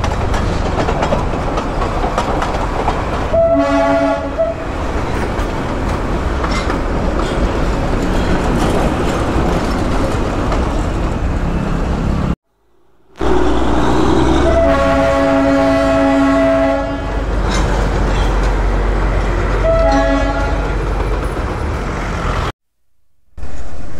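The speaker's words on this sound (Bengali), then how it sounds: "দেখো আর একটা অনবদ্য সিন, স্টিমগুলো বেরোচ্ছে দেখো, এই যে ফেমাস স্টিম ইঞ্জিন।" The Darjeeling toy train's steam engine rumbles past loudly with clattering wheels, sounding several long horn blasts over the heavy rolling noise, broken by two brief gaps of silence.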